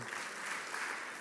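Dinner audience at a Celebration of Impact 2022 event clapping together on cue, a brief burst of group claps heard as a short, fairly even patter from a room of people.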